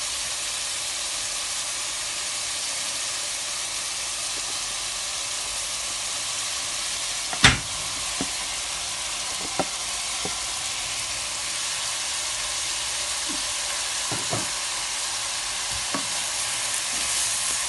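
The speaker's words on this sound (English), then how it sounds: "Continue stirring." Gizzard pieces frying and being stirred in a pan while cooking party fried rice, a steady broad sizzle and hiss with a few sharp utensil scrapes and clicks scattered through, no voices.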